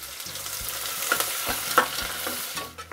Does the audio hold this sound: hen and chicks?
no